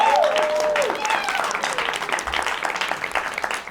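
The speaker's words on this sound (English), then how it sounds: "Let's clap for them." A live audience applauds the house band at a late-night show, steady clapping throughout with a shrill whistle rising near the start.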